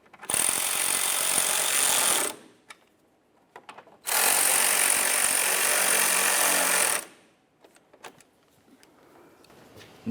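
Power tool snugging the mounting bolts of a corner piece in the wheel well of a 2009-2010 Pontiac Vibe: two long, loud, steady whirring bursts of about two and four seconds, separated by soft clicks and handling noises.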